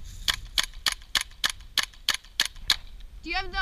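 Airsoft guns firing outdoors during a game, about nine sharp evenly spaced snapping shots in a row, followed by a shout.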